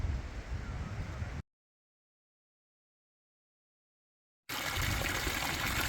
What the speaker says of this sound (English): This is the dragon that spits perpetually hot water